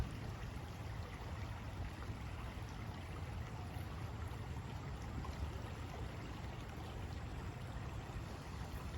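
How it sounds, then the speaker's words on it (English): Creek water flowing in an autumn outdoor setting, a steady even rush of moderate level with no pauses or other sounds. "There's the creek."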